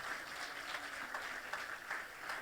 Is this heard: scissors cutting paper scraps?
no